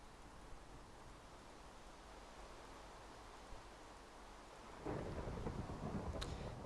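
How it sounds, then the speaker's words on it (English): Rain falls steadily in Minecraft, a soft even hiss, until a deep roll of thunder swells and rumbles near the end. "I don't like the rain."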